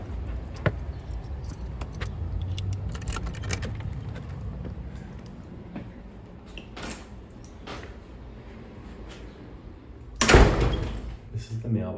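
Front door of a six-unit rental building being handled outdoors on a fine day, with a sharp, loud latch-and-door clatter near the end over steady street ambience and scattered clicks.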